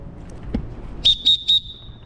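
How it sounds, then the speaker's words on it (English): Three sharp, shrill whistle blasts in quick succession, signalling during a rope rescue pickoff, the last one trailing off, after a moment of quiet. "so I radio out or whistle"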